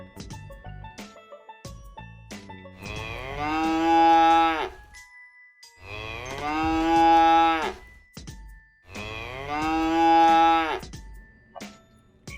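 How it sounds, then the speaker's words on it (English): A cow moos three times, long drawn-out lowing calls with short pauses between them, clear and close, with no other sounds. "In English we say cow, cow."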